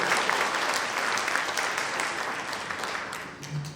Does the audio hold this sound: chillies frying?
no